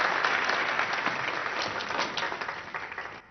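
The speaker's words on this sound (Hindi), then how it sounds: "ओके, अब स्टेज पर आएंगे ओलिवर ब्रॉनस्टीन। जोरदार तालियां।" Audience applause greeting a performer as he comes onto a stage, a dense steady clapping that fills the whole stretch and tapers slightly at the end.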